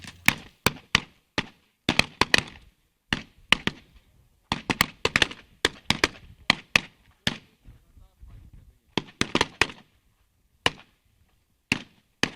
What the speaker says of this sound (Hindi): गन शॉट्स आप देख सकते हैं, गन शॉट चल रहे हैं इस वक्त।